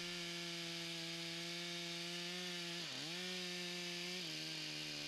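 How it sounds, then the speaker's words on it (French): Steady chainsaw drone close by as it cuts the directional notch in a tree during felling, the engine pitch dipping under load around the middle and again near the end. "L'entaille de direction est sciée progressivement pour ne pas se faire serrer."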